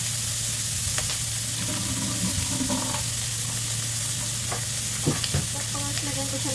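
Leftover roast chicken stir-fried in a pan with Japanese udon noodles, a loud continuous sizzle with repeated spatula scrapes and knocks close up, no talking.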